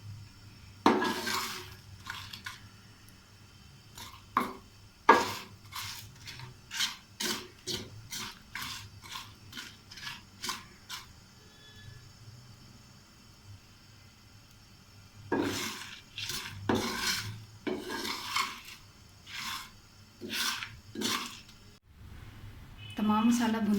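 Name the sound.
roasting and stirring masala spices in a pan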